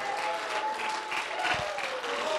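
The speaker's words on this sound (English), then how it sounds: "Clap your hands and worship the Lord" Church congregation clapping hands in worship, a soft, steady wash of applause at moderate distance with a faint tonal hum underneath.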